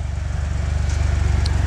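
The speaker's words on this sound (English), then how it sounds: "I got it in first gear, and it's just kind of idling" A Joyner UTV engine idles in first gear, a low, steady pulsing rumble with even rhythmic beats, close and continuous without speech.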